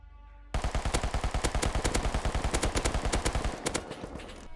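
An MP5 submachine gun in the game Rust fires one sustained automatic burst of about thirty rapid, evenly spaced loud shots that starts abruptly, then stops and leaves a short decaying tail.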